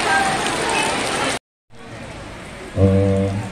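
Rain falls during an outdoor graduation farewell ceremony at a senior high school, a steady hiss of drops that cuts out briefly and then returns. A low horn-like tone rises near the end.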